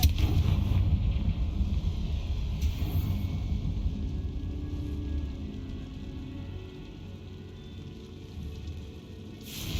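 A Confringo fire-blast spell explodes in Hogwarts Legacy, a dense low rumbling burst that rolls on and slowly fades over several seconds, loud at first and then softer.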